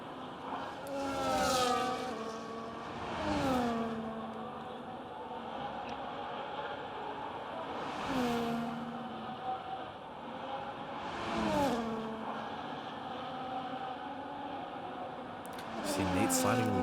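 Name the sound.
racing cars driving in a video game Grand Prix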